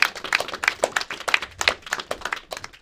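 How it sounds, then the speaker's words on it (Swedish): Applause at a Swedish charity fundraising gala, heard as a short run of distinct, fairly close hand claps in an uneven rhythm, as if only a few people in the room are clapping. "en applåd, givetvis ska vi få en applåd."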